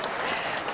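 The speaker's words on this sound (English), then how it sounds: "will you give us some applause to welcome Lisa Haysha?" Applause greeting a guest on a live broadcast, a short dense burst of steady clapping, loud and even, with no voices over it.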